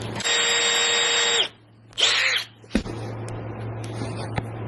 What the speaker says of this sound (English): I can drill through the corner of this book all the way through with my new